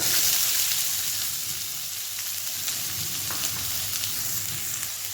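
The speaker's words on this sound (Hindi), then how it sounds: "तापर बारीक हुई काटिथिबा छोट छोट प्याज को एथिरे ऐड करनबा।" Finely chopped small onions sizzle in hot oil with cumin seeds in a pan, a steady close hiss of frying with a few faint stirring clicks and no talking.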